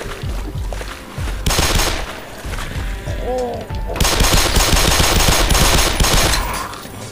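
Pistol fire in the video game Black Mesa Source, loud rapid shots in dense bursts with brief pauses, harsh and close, a short tonal effect in between.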